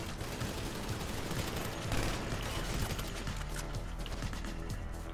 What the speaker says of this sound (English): I'm shooting rapid fire right now.